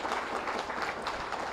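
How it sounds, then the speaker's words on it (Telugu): An audience applauding at a motivational youth talk, a dense steady patter of many hands clapping together, sustained and moderately loud with no gaps. "వావ్, ప్రకృతి మాతకి గట్టిగా చప్పట్లు కొట్టుకుందాం."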